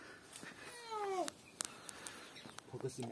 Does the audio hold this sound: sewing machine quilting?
no